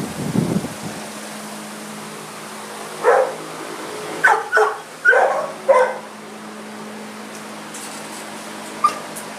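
A boxer mix with a bobtail at a dog run gives several short barks and whimpering yips in a cluster, close and fairly loud, followed by a faint quieter yelp.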